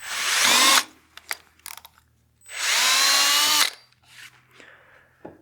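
A power drill with a 1/4 inch bit whines loudly in two separate bursts, each lasting about a second, with quiet woodturning workshop clatter in between.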